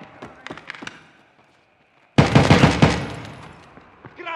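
Hip-fire gunfire in the video game Escape from Tarkov Arena: a few soft taps and a short pause, then a loud rapid burst of shots that rings out and fades.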